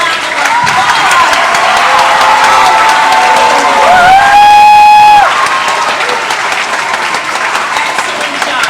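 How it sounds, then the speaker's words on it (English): A school Flag Day crowd of children and adults claps loudly and steadily for seventh graders, with cheers and whoops rising over the clapping and a voice briefly speaking through it. "Another round of applause."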